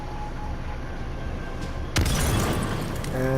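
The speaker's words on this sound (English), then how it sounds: "I threw a Molotov and boom" A Molotov cocktail bursts in the video game H1Z1, a sudden loud whoosh and crackle halfway through that cuts into a low steady background hum and stays roaring to the end.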